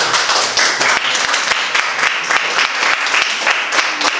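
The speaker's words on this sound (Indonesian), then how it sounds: "Untuk kelompok Farid diberi tepuk tangan" Classroom applause for a student group during a math lesson, with many distinct hand claps in a quick, uneven rhythm, loud and close.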